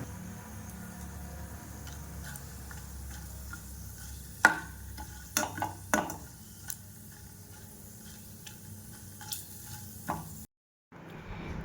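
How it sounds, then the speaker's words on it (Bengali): Bay leaves, black and green cardamom, cloves and cinnamon fry in a little hot oil with a soft, low sizzle punctuated by a few sharp ticks and pops from the spices. "গরম হয়ে গেলে এর মধ্যে 2টো তেজপাতা, একটা বড় এলাচ, একটা ছোট এলাচ এবং লবঙ্গ ও দারুচিনি দিয়ে ভেজে নেব।"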